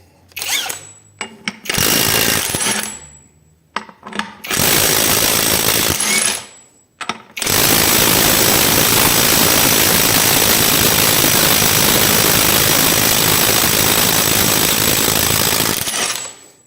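A compact cordless impact wrench, not a Makita, tightening a nut under test toward 400 N·m: short loud bursts of hammering, then a long, steady rattling run of about nine seconds, close and with no talk.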